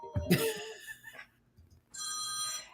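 A mobile phone rings from across the room in a home, a steady electronic ringtone in the last second after a cough and throat clearing, fairly loud and alone.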